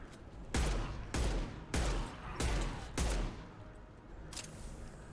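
Heavy gunfire in the Mass Effect 2 video game, with five loud, evenly spaced shots or bursts and a sixth fainter one, each booming and then trailing off.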